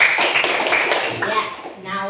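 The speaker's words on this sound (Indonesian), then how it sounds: "Tepuk tangan untuk nomor 4." A small group of women and children at a wudu prayer lesson clap briefly in a loose patter over an ongoing voice, the claps light and close, fading within a couple of seconds.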